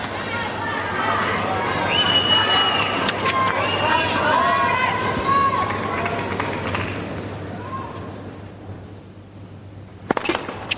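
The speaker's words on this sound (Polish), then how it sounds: "No i znów brawa za serwis." Crowd at the Australian Open 2008 tennis match between Baghdatis and Safin applauding a serve: sustained, fairly loud clapping for several seconds that fades toward the end, with a few sharp knocks at the close.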